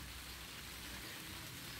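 Summer rain at a country dacha falls as a steady, soft, even hiss with no breaks, quiet and unbroken by other sounds.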